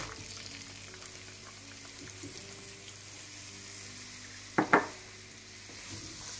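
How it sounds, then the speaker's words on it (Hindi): Onions fry gently in melted butter with a soft, even sizzle and faint stirring, broken by a couple of sharp utensil knocks near the end. "मक्खन गरम करने के बाद आप इसमें प्याज डाल दें।"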